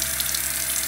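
A tap runs steadily into a sink during face washing, a loud, continuous hiss and splash up close with no break across the short moment.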